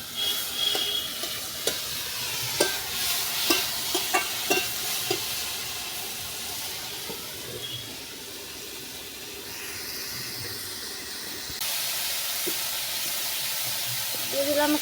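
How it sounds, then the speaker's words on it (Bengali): Boiled taro flowers hit hot oil in a wok with fried onion and chilli, giving a continuous sizzle broken by a run of sharp utensil clinks as they are stirred. "কচুর ফুল সিদ্ধ করে রেখেছিলাম সেটা আমি দিয়ে দেবো ভিতরে, কড়াইতে দিয়ে দিলাম"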